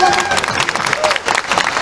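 Dense clapping from an audience at a live show fills the short stretch, loud and continuous, with voices mixed in.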